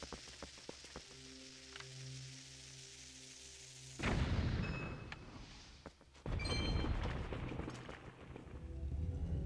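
Bomb blasts in the Cave of Ordeals of a Zelda game, running at quadruple damage: two loud, broad bursts of crackling rumble, the second hitting a couple of seconds after the first, over a quiet backdrop of game music.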